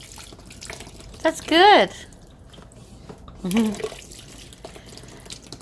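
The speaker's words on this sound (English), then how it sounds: "That's a smart way to do it, to rinse your arms off." Tap water runs steadily while arms are rinsed during a homemade paper-making session, a soft wash under nearby voices talking with a child.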